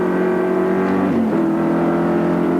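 Group C touring race cars at Adelaide International Raceway drone loudly and steadily, with a shifting engine note midway as one closes in to draft down the straight, with no talk.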